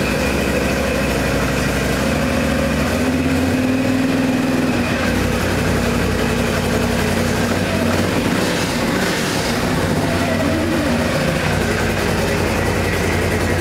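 A Renegade engine starts and runs on test, a loud, steady rumbling drone with rhythmic mechanical clatter that holds throughout, no voices over it.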